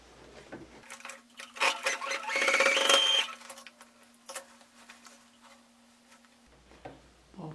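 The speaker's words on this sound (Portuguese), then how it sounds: "Vou passar uma costura aqui." A sewing machine runs in short bursts, stitching a seam on a crossbody bag or notebook sleeve, with a rapid ticking whir that rises and fades against a quiet room hum.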